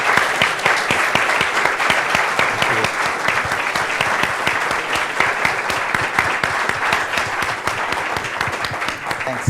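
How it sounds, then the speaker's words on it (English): A lecture-hall audience applauds two guest speakers after a panel discussion on U.S.–China relations, a dense run of loud, steady clapping that lasts throughout with no voices on top. "Let's give Brantley and Scott a big round of applause."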